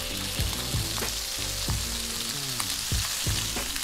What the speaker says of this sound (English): we are done searing this